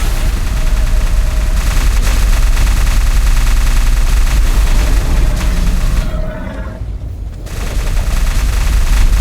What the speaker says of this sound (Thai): เสียงปืนกลยังเหลืออยู่